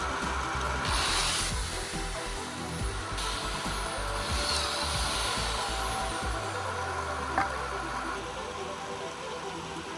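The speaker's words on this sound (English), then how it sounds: "this 650-watt drill." A 650-watt electric drill runs steadily for the whole stretch, its continuous broadband whir holding an even level with no pauses and no voices.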